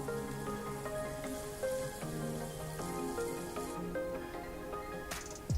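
Green chillies fry in a drop or two of oil on a hot tawa over a gas flame, a soft, continuous sizzle and crackle with scattered pops, close and fairly quiet.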